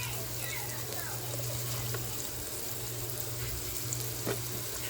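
Onion frying in a pan for dal fry, a steady low sizzle with occasional stirring clinks close by, while a low hum runs underneath.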